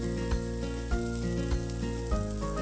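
Eggplant frying in hot oil in a pan, a steady close sizzle with a few louder crackling bursts at intervals and no talking.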